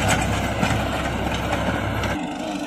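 A New Holland 3600-2 tractor engine runs steadily while pulling a rotavator, a loud continuous low rumble that drops off sharply in its lower tones near the end.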